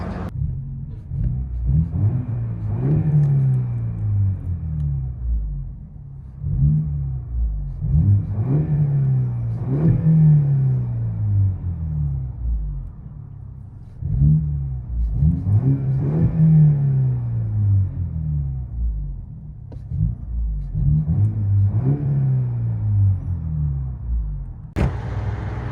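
Heard from inside the cabin, a 2018 Audi A5 S-Line 2.0L turbo four-cylinder with a muffler delete revs in five or six steady rising sweeps, a deep muffled drone that stays loud and close.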